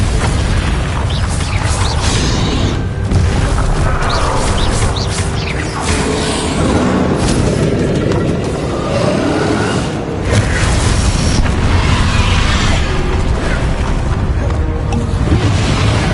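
Bombarda and Confringo spell explosions in Hogwarts Legacy, loud continuous rumbling booms and bursts layered over one another, heavy and close throughout with no clear gaps.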